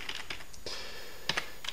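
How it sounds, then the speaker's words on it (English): Keys tapped on a computer keyboard, a few quick separate clicks then a short burst of two or three sharper strokes, close and fairly quiet in a still room. "I'm just going to type in test here."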